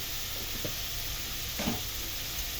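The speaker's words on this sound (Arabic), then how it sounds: "بعد ما عملنا الفاصوليا كده نديها تشويحه شويه" Green beans sautéing in a pan with a sprinkle of black pepper, a steady soft sizzle with a few brief stirring scrapes, close and fairly quiet, no voices.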